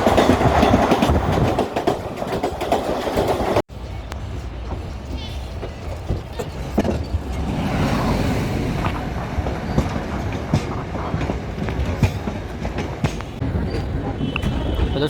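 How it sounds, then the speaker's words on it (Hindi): Kanpur Bandra SF Express running on rails after leaving Rura, a loud steady rumble with clickety-clack wheel beats and a brief drop partway through, no one speaking. "तो दोस्तों रूरा से निकल चुके हैं हमारी ट्रेन"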